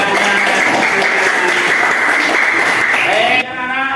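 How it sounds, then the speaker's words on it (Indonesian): Classroom of schoolchildren clapping together during a lesson, a dense steady patter that fills the room and then cuts off sharply near the end, followed by a brief quieter tail. "tepuk tangan semuanya"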